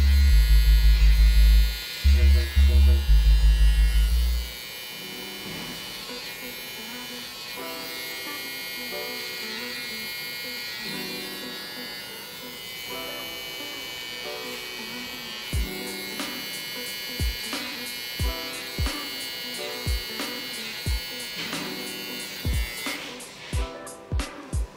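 A Gamma electric trimmer shaping sideburns gives a close, loud buzz at first, then a steadier hum, followed by a series of short regular clicks and taps near the end.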